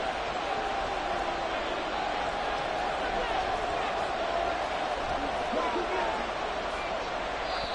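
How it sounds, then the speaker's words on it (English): A stadium crowd roars steadily throughout a Madden football game as play builds toward a big third down late in the fourth quarter, a continuous dense wash of cheering with occasional whoops, with a commentary voice woven through it. "the crowd getting into it as we come up on a big 3rd down"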